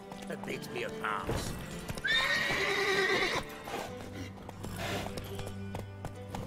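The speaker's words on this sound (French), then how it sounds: "Ah il veut que je calme les chevaux, pardon," Horses neigh and whinny inside a stable in The Witcher 3, with clip-clop hooves, a loud whinny in the middle and further neighs later, heard under someone speaking.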